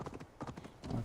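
Quick clip-clop of horse hooves in a steady trotting rhythm in the video game Assassin's Creed Valhalla, close and clear, with a brief snort at the end.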